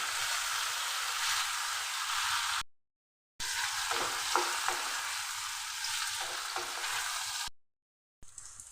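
Pieces of pointed gourd and potato fry in oil over a low-to-medium flame, giving a steady close sizzle with a few stirring clatters, broken by two short cuts to silence. No one talks.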